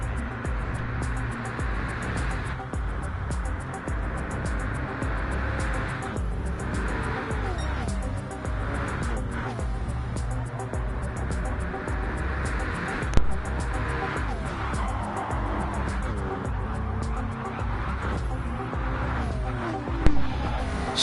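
McLaren GT3 race cars in a racing video game, a reverse layout of High Speed Ring, drone with steady high engine whine, revs rising and falling through gear changes and occasional tire squeal, while commentary runs over it.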